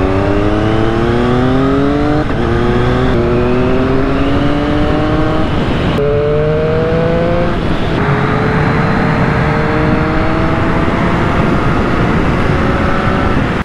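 A Triumph Street Triple 765 RS engine revs up through the gears with a quick-shifter, its pitch climbing and dropping abruptly at each shift, loud and close with no talk.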